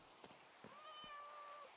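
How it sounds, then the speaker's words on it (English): A Minecraft cat gives a soft, drawn-out meow after a few faint taps, quiet and alone. "I hear a cat."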